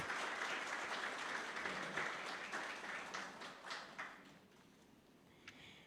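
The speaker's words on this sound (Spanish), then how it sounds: "Vamos a recibirlo con un fuerte aplauso" Audience applause at a formal panel discussion welcoming a guest, steady dense clapping that gradually thins and fades toward the end, with no talk over it.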